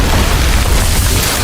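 Small sticky explosives bursting after a dodge in the action game Wuchang: Fallen Feathers, a loud, dense boom with a heavy low rumble filling the short moment, no voices.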